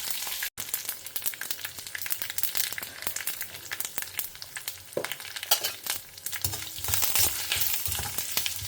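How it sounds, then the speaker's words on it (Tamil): Mustard seeds, urad dal and chana dal fry in hot groundnut oil, a dense continuous crackling sizzle with rapid popping and spluttering, close and steady, growing busier toward the end, no voices. "கடலெண்ணெய் குத்தி கடுகு, உளுத்தம்பருப்பு, கடலைப்பருப்பு போட்டிருக்கேன்"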